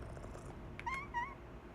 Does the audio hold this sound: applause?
no